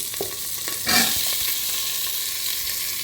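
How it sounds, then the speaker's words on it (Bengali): Vegetables sizzling as they are added to lightly fried ginger in a hot pan, a steady crackling hiss with a brief louder burst near the start, no voices. "আদাটা হালকা ভাজা হয়ে গেলে সবজিগুলো রেখে দিয়ে"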